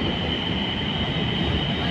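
A Pune metro train runs along the track, a loud, steady rolling rumble with a sustained high whine and no breaks.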